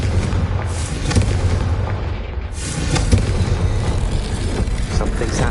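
Confringo fire spell explosions in Hogwarts Legacy: a dense, roaring barrage of booms and blasts that stays loud throughout, with a brief dip in the middle before the rumble surges back.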